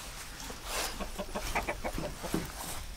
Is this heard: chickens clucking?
yes